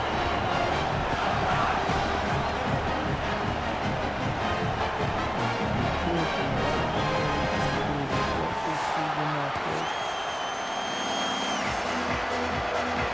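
Stadium home crowd in College Football 27 at a season opener against Kent State, a loud, constant roar that carries through the whole stretch.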